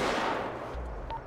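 A short burst of gunfire breaks out during a GTA RP shootout with gun store employees. It sounds loud at the onset and quickly decays into a fading rumble, with no talk over it.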